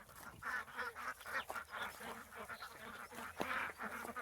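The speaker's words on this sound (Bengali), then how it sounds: "অনেক অনেক হাঁস রয়েছে ওনার" A large flock of farm ducks quack and honk together outdoors, a dense overlapping chorus of nasal calls rising and falling in bursts, moderately close and fairly quiet.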